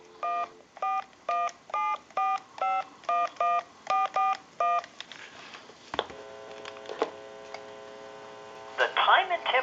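Eleven or so crisp touch-tone DTMF beeps dial a time-and-temperature number on an AT&T telephone in an even rhythm, followed by line clicks, a faint recorded voice and hum.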